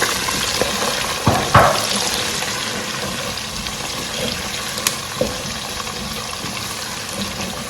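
Onions sizzle in hot Ghanaian palm oil for a Kontomire egg stew, a steady close frying hiss with a few sharp clinks and taps of a utensil against the pan.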